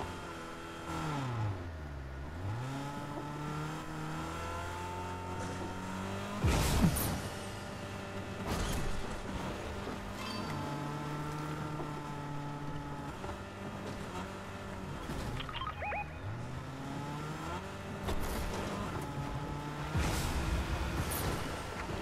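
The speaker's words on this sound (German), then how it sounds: "Hier, Lamborghini," Lamborghini driving in Fortnite, a moderately loud engine whose pitch sweeps up and down with shifting revs, plus a few sharp bangs and impacts along the way, no talking.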